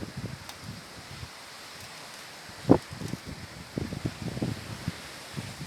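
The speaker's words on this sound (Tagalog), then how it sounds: "Lakas ng hangin, oh." Gusty typhoon wind in Hong Kong rushes and rustles through foliage outdoors near the sea, with a brief sharper gust midway and rising activity toward the end.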